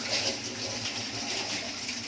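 Water poured into a hot pan to steam a frying egg for Thai pad kra pao, a short rushing hiss and bubbling sizzle, fairly soft and close.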